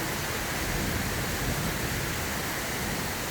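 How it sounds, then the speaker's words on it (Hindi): Very heavy rain pours down under thick cloud near a grandmother's house, with cold water running off. A dense, steady, loud hiss fills the whole stretch on its own, with no breaks. "बहुत ज़्यादा बारिश हो रही है यहाँ, बहुत खतरनाक वाली"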